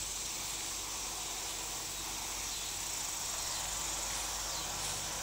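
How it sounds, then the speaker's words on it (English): A garden sprayer mists diatomaceous earth onto tomato plants, giving off a steady, soft, airy hiss that runs evenly and unbroken throughout. "we will very carefully mist these tomato plants"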